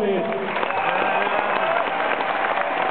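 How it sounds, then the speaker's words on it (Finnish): A crowd at the Assembly summer 2008 computer event applauds a Nokia representative, a loud, dense, sustained clapping wash with cheering voices mixed in, filling the whole stretch. "annetaan Nokialle mahtavat aplodit!"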